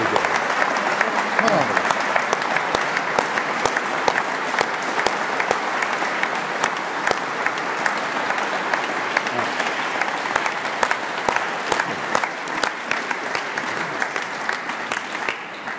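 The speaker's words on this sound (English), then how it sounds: "I think that was what's known as sustained applause." Sustained applause from a lecture audience after David Dimbleby's annual Sir Edward Heath Charitable Foundation lecture, a thick, even roar of many hands clapping that holds for the full stretch and tapers slightly near the end.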